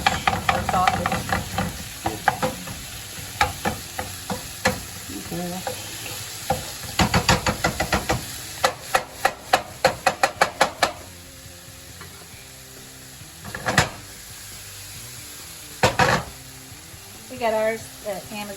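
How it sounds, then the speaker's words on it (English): Ground sausage sizzles and fries in a pan while a chopper tool scrapes and clacks through the meat in quick rhythmic taps, with people chatting over the cooking. "it really breaks up the ground beef into nice small little bits"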